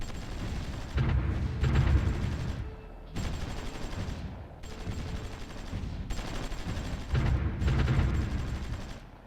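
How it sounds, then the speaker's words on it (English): Artillery bombarding enemy garrisons in the strategy game Supreme Ruler Ultimate sounds as repeated rumbling volleys of distant gunfire, coming in clustered bursts with brief quieter gaps between them. "our artillery is actually working, bombarding the garrisons over there"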